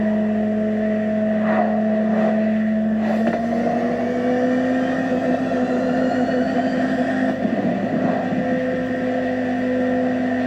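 A 2002 Ferrari Enzo's engine in The Crew Motorfest, a steady tonal drone with slowly shifting pitch, holding a constant level throughout with a few light bumps.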